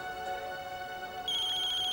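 A phone rings with an electronic ringtone as a client calls, a steady tonal melody at moderate level that shifts to a higher, brighter pitch partway through, with no speech.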